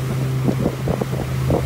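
Strong wind blowing from the south outdoors by a boat, a continuous buffeting rush over a low steady motor hum, with muffled irregular thumps throughout.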